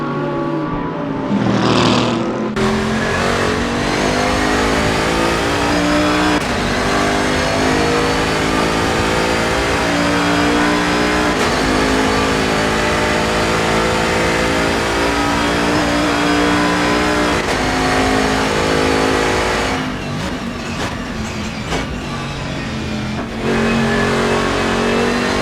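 GT race cars roar around a track in a sim racing game, engines revving and holding loud and continuous, with a gear change or brief lift near the end before they pull away again.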